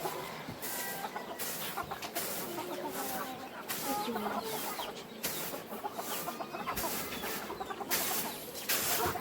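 Chickens in a Lao countryside village cluck and squawk continuously, with one or two crowing calls among them, over a busy outdoor background with occasional nearby voices.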